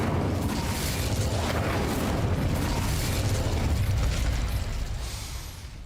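A loud, sustained roaring whoosh from an Incendio fire spell cast in the Hogwarts Legacy video game, fills the whole stretch and fades slightly at the end.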